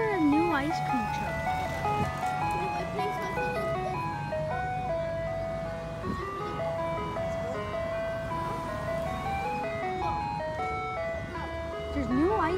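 An ice cream truck plays its tinkling melodic jingle continuously, steady and fairly close, with a low engine rumble underneath and faint voices nearby.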